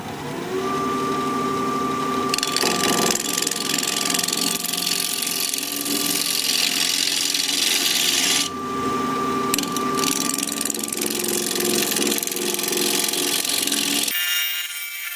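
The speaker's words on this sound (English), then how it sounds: "We're going to be turning at 1320 RPM, 5/8 inch bowl gouge," A wooden bowl blank spins on a lathe at 1320 RPM while a 5/8 inch bowl gouge cuts it, making a loud, continuous scraping hiss over a steady motor hum that shifts slightly in tone and cuts off near the end.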